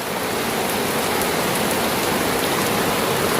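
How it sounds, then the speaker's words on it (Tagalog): Steady rain pours and drips through a leaking house roof during a storm, a dense, continuous hiss of falling water with scattered drops, loud and close, with no one speaking. "Tumutulo ang kanilang bubong."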